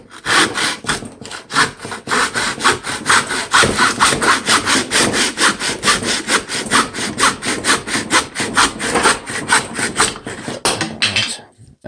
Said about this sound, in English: you are going to need a miter box, and you are going to need a miter saw.